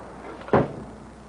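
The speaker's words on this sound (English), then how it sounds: "I slammed down the lid of the trunk." A car trunk lid slams shut in a single sharp, heavy thump that fades quickly against a quiet room hiss.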